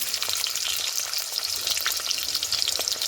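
Onion and potato sizzle and crackle steadily in hot oil, a loud, close, continuous frying hiss with occasional sharper pops throughout.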